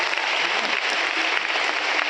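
Audience applause at a business seminar: dense, steady clapping from a crowd, loud and continuous for about two seconds with no talking over it.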